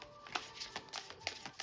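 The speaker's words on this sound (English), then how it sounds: "It's hard to shuffle today." A deck of oracle cards is shuffled by hand in a quiet room, giving a run of soft, papery riffles and flicks at an uneven pace, close but faint.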